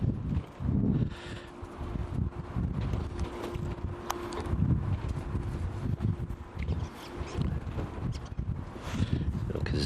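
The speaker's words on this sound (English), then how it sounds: "So the wind's still a bit gusty." Gusty wind blows across an outdoor vegetable garden on a day for sowing seeds, making a steady low buffeting rumble against the microphone that swells and dips in irregular gusts, with a faint tonal hum running partway through.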